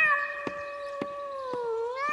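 A pet cat meows in a long, steady, tonal call that bends slightly in pitch, heard close and alone, with faint clicks or taps in the background.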